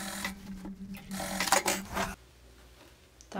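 A sewing machine runs a straight seam on a blazer, a close rapid mechanical whir in two bursts before stopping, leaving a quiet lull and a brief restart at the end.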